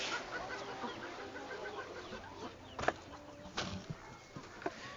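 Chickens cluck softly in a coop, with scattered clucks and a few brief wing flaps and louder squawks near the end, fairly faint overall.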